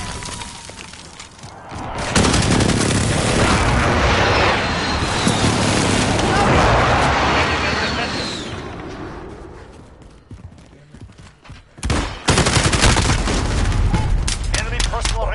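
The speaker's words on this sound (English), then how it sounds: "Allied precision airstrike incoming." Precision airstrike explosions in a PS4 shooter game: a loud, sustained roar of blasts and rumbling debris that fades briefly, then erupts again in sharp, crackling bursts.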